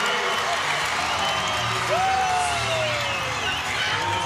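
A volleyball arena crowd at an ACC college match erupts in sustained cheering and applause after a call reversal is announced, a dense wash of roaring voices, claps and whoops with a brief tone sounding over it.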